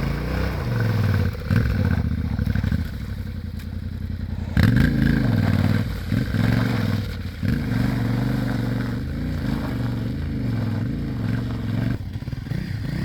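A CRF dirt bike's engine revs and bogs through thick, sticky mud, loud and close, with uneven surges of throttle and clattering, scraping bursts as the wheels struggle.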